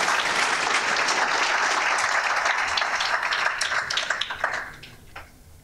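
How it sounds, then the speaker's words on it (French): Audience applause after a French conference talk, a full steady wash of many clapping hands that holds for several seconds, then thins to a few scattered claps and dies away. "Merci beaucoup, on peut applaudir Jean-François."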